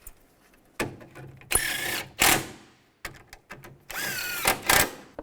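A power drill tightens screws on the engine of a 2002-2009 Chevy Trailblazer during a timing chain replacement, giving short, moderately loud whirring bursts with quiet pauses between them.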